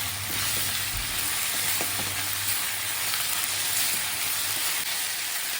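Drumstick leaves and egg frying together in a pan, a loud continuous hiss of sizzling oil with faint stirring taps underneath.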